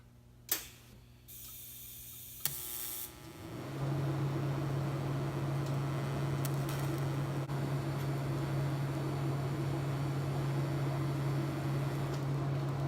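A TIG welder set to about 70 amps strikes an arc on a steel serpentine belt tensioner tool after a few clicks, then holds a steady, close buzzing hiss to the end.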